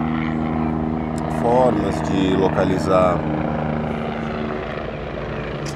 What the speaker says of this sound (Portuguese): o helicóptero passando aqui em cima.